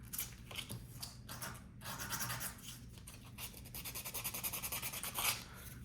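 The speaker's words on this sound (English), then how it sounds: "We can do that with a little sanding paper." Sandpaper worked by hand over a small 3D-printed part, giving a run of close, rasping rub-and-scratch strokes that speed into a quicker, steadier rhythm toward the end, with no talking over it.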